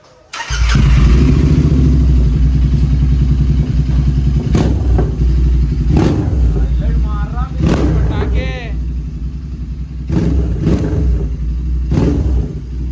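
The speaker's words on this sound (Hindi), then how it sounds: "तो अभी गाड़ी की आवाज सुन लो। इंटरसेप्टर मोटो टॉर्क के साथ फुल सिस्टम।" A Royal Enfield Interceptor 650 BS6 fitted with a Moto Torque full-system exhaust starts and idles loudly up close, its steady throbbing punctuated by several sharp throttle blips, with people talking over it.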